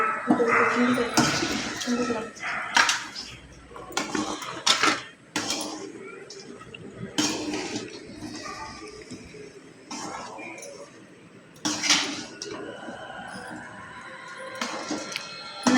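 Small garden-grown tubers being stirred in a cooking pot, with scraping and clattering knocks from a utensil in uneven bursts, close by, mixed with a voice talking intermittently throughout.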